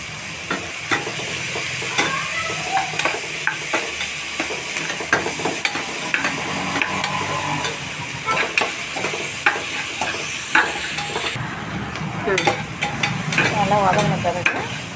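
Banana stem stir-frying with salt in a pan: a steady, close sizzle runs throughout, broken by repeated scraping stirs and a few brighter spatters near the end.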